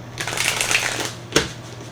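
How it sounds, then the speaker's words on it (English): A deck of tarot cards is shuffled up close: a quick papery riffle lasting about a second, then a single sharp snap as the cards settle, with no voices. "One more shuffle."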